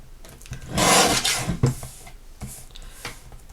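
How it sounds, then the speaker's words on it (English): Trimming a recycled Christmas card: a short, close rasping cut swells and fades within about a second, followed by a few faint scraping touches. "I will trim it right under the word greetings."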